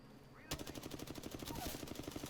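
Rapid automatic gunfire from the battle royale video game Apex Legends, starting abruptly after a brief quiet moment and continuing as a steady, loud rattling burst of evenly spaced shots.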